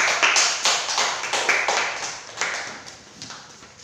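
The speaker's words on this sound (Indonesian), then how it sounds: "Tepuk tangan untuk kelompok 2." A small group of classroom students claps for a classmates' presentation group, giving a sparse, uneven patter of hand claps close by that thins out and fades toward the end.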